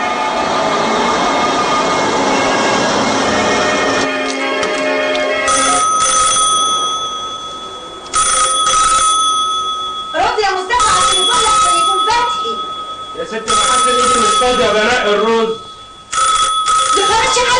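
A telephone rings repeatedly in an Egyptian feature film from 1985, loud bursts of electronic ringing broken by short gaps, with speech and other scene sounds around it.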